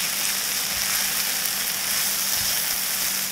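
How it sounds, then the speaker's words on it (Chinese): Mushrooms and broccoli florets being stir-fried in a pan for a chicken pot pie filling, a steady, loud, close sizzle that runs unbroken with no voices. "之后加入蘑菇还有西兰花头，继续的翻炒均匀"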